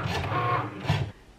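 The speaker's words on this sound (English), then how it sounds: "now it's going to perform a calibration cut again" A Cricut Maker cutting machine runs a calibration cut, giving a close, steady mechanical whir and buzz of the moving carriage for about a second before it drops off near the end, with no voices.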